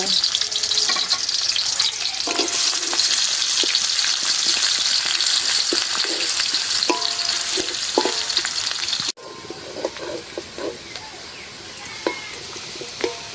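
Onions frying in hot oil for khud polao, a loud, dense, continuous sizzle with spatula scrapes, briefly cutting out and returning somewhat quieter with more distinct stirring knocks.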